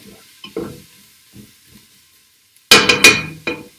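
Mirepoix for chicken noodle soup sizzles in a pot under a spoon, with a few soft scrapes at first, then a loud burst of clattering stirring and clinking near the end.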